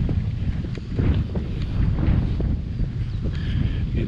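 Breezy wind ahead of rain sweeps past outdoors on a ranch ride, a steady broadband rush with low rumbling gusts that stays continuous and moderately loud throughout, with faint rustling mixed in.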